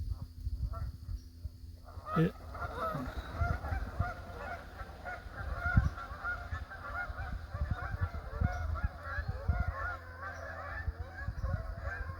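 Hundreds of Canada geese honking together along a hiking trail in Gananoque, Ontario: a dense, continuous chorus of overlapping honks at moderate distance, with one sharper, nearer call standing out early on.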